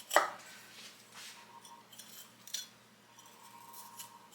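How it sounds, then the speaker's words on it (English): Knife running down the vein of a halved pepper to deseed it, a sharp cutting scrape at the start and then softer scraping and light taps, close and quiet with no voice. "Now I'm just going to take my knife, just run it down that vein."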